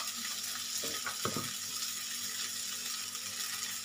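Spices fry with a constant bright sizzle in a pan as cumin powder is added, a couple of brief spoon stirs or scrapes cutting through near the start, close and steady throughout.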